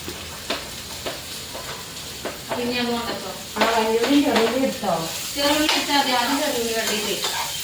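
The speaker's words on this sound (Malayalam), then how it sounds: "ആദ്യം ചെറുള്ളി നന്നായിട്ട് വഴറ്റെടുക്കും." Shallots sautéing in oil in a home kitchen: a steady close sizzle with scraping stirs, while a person speaks over it for most of the stretch.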